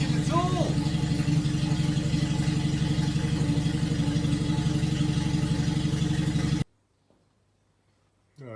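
A car engine with only half its exhaust fitted runs steadily at idle, a loud close rumbling clatter for several seconds before cutting out abruptly into near silence.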